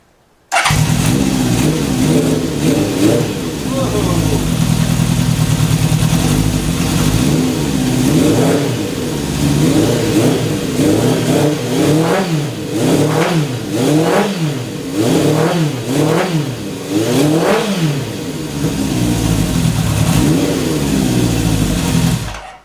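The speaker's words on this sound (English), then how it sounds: "Any excuse to fire the bike up again. Let's see how it runs with the stock airbox." A 1973 Honda CB750 custom motorcycle with its stock airbox starts and idles, then is blipped repeatedly in a run of rhythmic revs before settling back, loud and close throughout.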